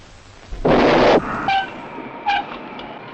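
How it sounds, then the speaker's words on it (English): Violent summer thunderstorm effect for a movie trailer, a loud sudden crack and rumbling burst followed by fainter echoing rolls and tonal tails, with no speech over it. "It was a violent summer storm."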